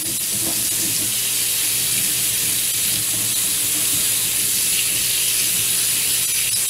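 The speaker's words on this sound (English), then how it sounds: "I'm about to put a little water in this pan." Warm water pours into a cooking pan in a home kitchen, a steady hissing, spraying stream that runs continuously at close range with no pauses and no talk.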